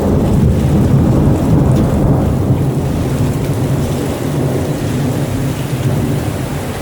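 Thunderstorm pours steady heavy rain with deep rolling thunder rumbling throughout, loud and close, with no voices.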